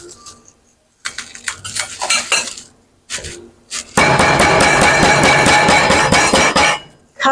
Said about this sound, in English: Now I'm going to pound it a little thin.